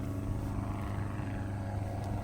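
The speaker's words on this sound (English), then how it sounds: "And when I heard the plane get louder and louder" An airplane drones overhead, a steady low rumbling engine roar that holds at an even level throughout with no other sounds.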